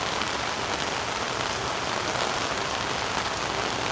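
Steady rain falls during the monsoon season over a small pond where turtles sit, a dense, even hiss with no letup and no voices throughout.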